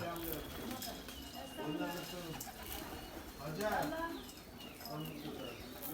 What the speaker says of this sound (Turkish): Bunlar süs güvercinleri.